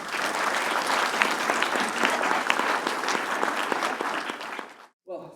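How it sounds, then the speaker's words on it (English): Sustained audience applause at a morning conference keynote session, a dense steady patter of many hands that continues strongly before stopping abruptly, followed by a brief faint voice. "Another round of applause for both Karen and Tina, please."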